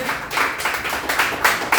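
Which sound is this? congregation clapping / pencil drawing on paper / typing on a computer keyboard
congregation clapping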